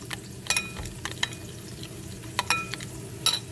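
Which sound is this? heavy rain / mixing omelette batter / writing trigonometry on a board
mixing omelette batter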